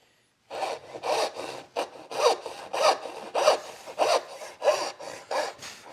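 A hand saw cuts splayed dovetails in wood with a clear, regular run of close rasping strokes, about a dozen back-and-forth passes in even rhythm, loud and alone.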